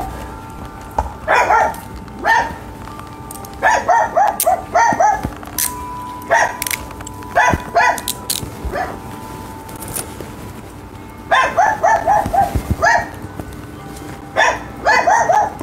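Dogs barking in bursts of several sharp barks, fairly close and loud, recurring through the scene with brief pauses between volleys and a faint voice now and then.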